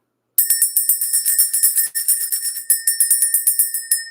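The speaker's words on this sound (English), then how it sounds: "Let's ring the bell." A bell is struck rapidly and repeatedly, about two dozen bright metallic rings in a steady rhythm with a brief pause midway, loud and close with no voices.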